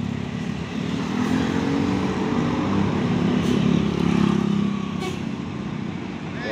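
Heavy traffic with tour and intercity buses crawling through a congested three-way junction at Simpang Tiga Medaeng during the 2023 Lebaran return rush, a steady loud engine rumble with swelling passes and no speech.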